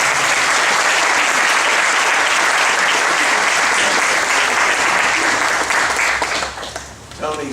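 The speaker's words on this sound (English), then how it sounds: "Let's give them a round of applause." Loud, dense applause from a crowd at a Toyota dealership groundbreaking ceremony, sustained and even before tapering off near the end, with a voice briefly coming through as it fades.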